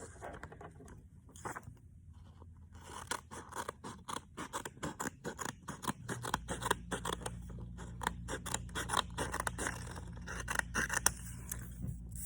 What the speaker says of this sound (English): you are going to cut this little edge piece off here.